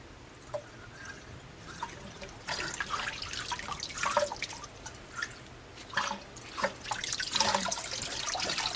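Water rinsing a freshly hydro-dipped piece, a running splash with irregular drips and patters close by, growing busier and louder partway through.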